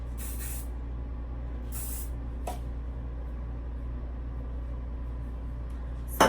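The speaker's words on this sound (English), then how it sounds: "I spray my part because it tends to get a little fuzzy sometimes" Several short hissing bursts of an aerosol spray, a few quick sprays spaced apart against a quiet low hum.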